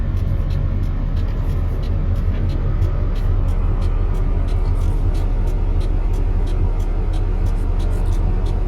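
Road traffic in a long jam is heard from inside a vehicle, a steady low rumble of engines with faint repeated ticking, unbroken and fairly loud throughout.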